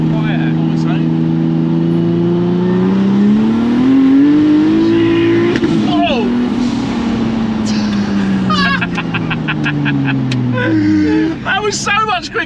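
A Ford F100 pickup with a twin-turbo Nissan 370Z engine swap accelerating hard, the loud engine note rising and falling through gear changes. Voices talk over it near the end.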